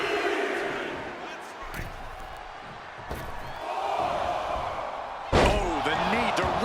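In the WWE 2K25 wrestling video game, strikes and slams thud against a roaring arena crowd, with a sharp heavy impact near the end and commentary voices talking over it.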